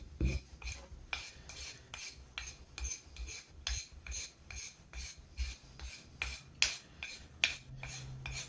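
Repeated rasping strokes of a file smoothing a wooden wedge pipe, evenly spaced scrapes close by at roughly one per half second, with no voices.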